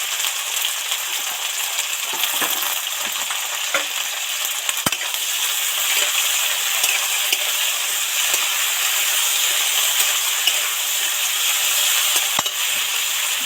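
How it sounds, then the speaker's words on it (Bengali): Carrot pieces deep frying in a pan of oil, a loud continuous sizzle and bubbling hiss with faint scraping stirs, steady throughout with no talking. "ক্যারেটটা তো একদম ডুবো তেলে ডিপ ফ্রাই করে ভেজে নিলাম"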